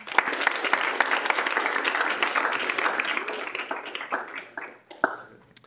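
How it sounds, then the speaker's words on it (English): A campus student gathering claps for a student senator, a steady wash of applause with distinct sharp claps that gradually tapers off toward the end. "if we could give him a round of applause"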